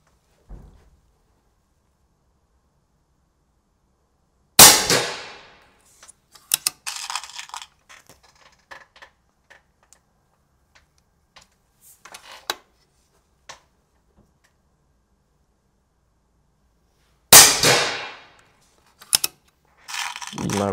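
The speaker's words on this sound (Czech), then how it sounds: "Vidíme vlastně 3 stejné výstřely se stejnou silou energií" Three EPIC AIRGUNS air rifle shots fired with a regulated setup at about 259 m/s, each a sharp crack followed by scattered mechanical clicks and handling noise, two shots spaced well apart with quiet between.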